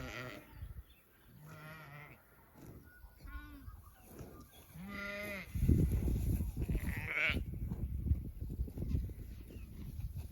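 Several sheep bleat close by in a field while a fence is being moved, with overlapping wavering calls from different animals, then a rougher, louder stretch of rustling and movement as the flock comes running.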